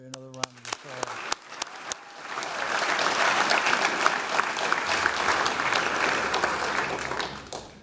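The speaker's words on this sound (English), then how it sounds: "Let's give Kori another round of" Sustained applause from a large audience at a university commencement ceremony, starting with a few loud individual claps that swell into dense, steady clapping lasting several seconds before tapering at the end.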